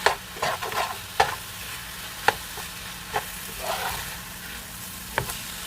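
Pork meat sizzles in a pan while a utensil stirs it, giving a steady frying hiss broken by several sharp scraping knocks, close and without talk.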